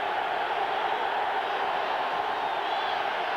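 A steady, dense roar from a football stadium crowd, standing to urge on the Jets defense against the Cowboys at a 1990 game, holding at an even, loud level with no breaks.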